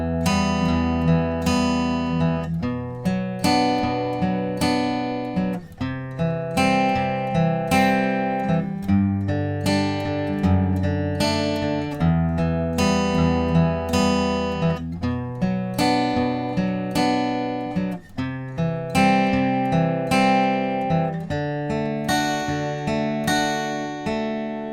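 Acoustic guitar strumming the chorus of a song in a steady down-down-up pattern, clear and close with ringing chords and no voice.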